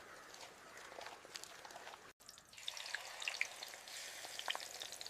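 Fresh octopus fries in a pan with simple masala and curry leaves, a soft continuous sizzle that briefly cuts out, then returns brighter and louder with spitting pops.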